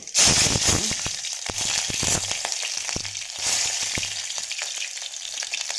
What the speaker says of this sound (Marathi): तेल गरम झाल्यावर त्यामध्ये थोडीशी मोहरी, थोडे जिरे, 2-3 लसणाच्या पाकळ्या, 1 मिरची